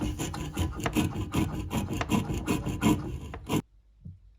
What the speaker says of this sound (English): So I'm going to try and cut the bottom off.